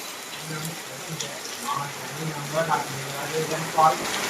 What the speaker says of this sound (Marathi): आत्ताच जस्ट पाऊस आला.